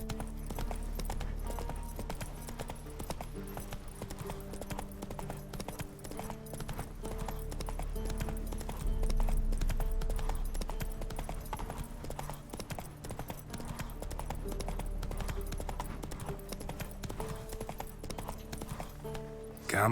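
Roach, Geralt's horse in The Witcher 3, gallops in a long unbroken run of rapid hoofbeats over a constant low game ambience, steady and moderately loud throughout.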